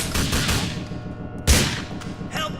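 Gunfire in the video game GTA IV The Ballad of Gay Tony, rapid bursts of shots rattling continuously, with a heavier blast midway, loud and close.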